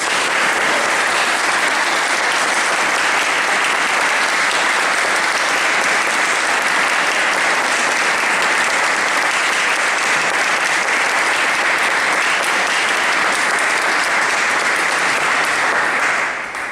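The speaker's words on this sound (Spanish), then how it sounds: "para que también pide un aplauso" Sustained, dense audience applause at a tribute event for a traditional musician, loud and steady throughout, filling the whole stretch with no voices above it before tapering slightly at the very end.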